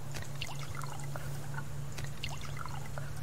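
Water trickles and pours steadily into a container for chickens in the survival game Subsistence, with small splashes and drips over a constant low hum.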